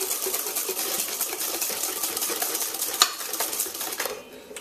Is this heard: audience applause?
no